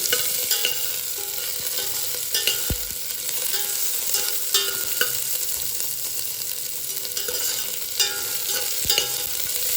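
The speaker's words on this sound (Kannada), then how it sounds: "ಈರುಳ್ಳಿ ಜಸ್ಟ್ ಒಂದು ಗೋಲ್ಡನ್ ಕಲರ್ ಬರೋದಂತ ಫ್ರೈ ಮಾಡ್ಕೊಳ್ಳಿ" Onion frying to golden in a pan: a steady, moderate sizzle with occasional spatula scrapes and taps, close and without voices.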